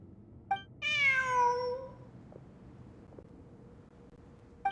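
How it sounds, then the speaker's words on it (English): A cat meows once in a long, drawn-out, clear call that rises and then falls, close and loud, with quiet room ambience and a few faint clicks before and after. "Look! A cat!"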